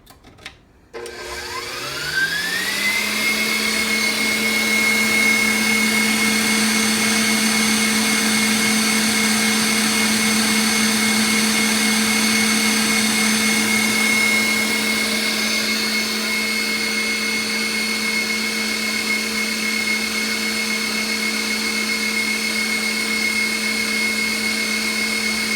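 Electric mixer whipping egg whites to stiff peaks for a chocolate soufflé, spinning up quickly from a start and then holding a steady, loud whirring drone for the whole stretch.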